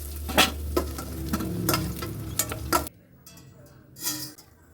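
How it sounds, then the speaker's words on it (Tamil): Okra sautéing in a little oil, with loud stirring scrapes and clatter against the pan over a frying sizzle, followed by a quieter stretch with one more scrape. "வெண்டைக்காயை கொஞ்சம் எண்ணெயில் போட்டு வதக்கி எடுக்கணும்"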